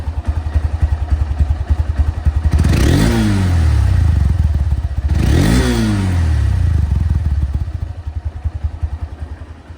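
A Honda CB Hornet motorcycle in showroom condition idles with a steady close-up putter, then revs twice in strong rising-and-falling bursts before settling back to a smooth idle; no one talks.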